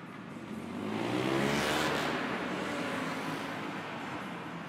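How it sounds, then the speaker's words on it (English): Vintage racing motorcycles roar as they launch at a flat-track event at The One Motorcycle Show in Portland, Oregon, a loud revving engine note that swells, peaks, then sustains with crowd ambience. "Listen to that engine. That is a thing of beauty."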